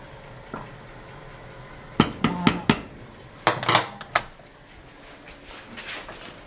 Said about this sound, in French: je vais aller remuer un peu mon riz parce que je ne voudrais pas que ça colle